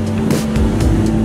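An Infiniti G35's engine runs close by with a loud, steady low hum and a few short bursts of rougher revving. No voices are heard.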